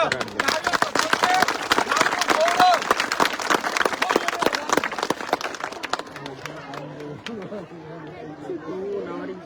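An audience gives loud applause at a gathering honouring a retired CRPF paramilitary jawan, dense clapping for about six seconds that then fades into someone speaking.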